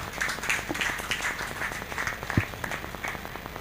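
Audience applause at a Catholic church career clinic event in Lekki, a dense, steady spread of many hands clapping at a moderate level throughout, with no talk over it.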